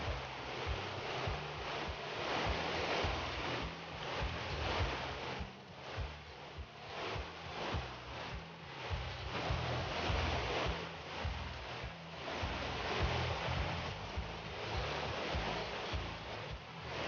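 Wild river rapids surge and roar steadily as rafts leave Moline Lake and enter its outflow in the Canadian Rockies, a dense, continuous rushing wash with buffeting wind noise throughout and no voices.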